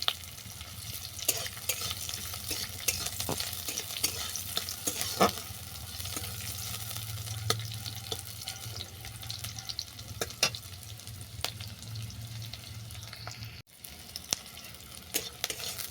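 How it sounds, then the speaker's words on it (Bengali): Chopped onion frying in a pan after browned garlic and chilli, stirred with steady scraping strokes over a soft continuous sizzle, close and moderate, with a brief clatter near the end. "পেঁয়াজটাকে হালকা ভাজা ভাজা করে নেবো"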